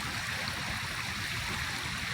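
A creek flows steadily in a wooded spot in Rockford, Illinois, giving a constant broadband rush of water that is close and even, with no voices.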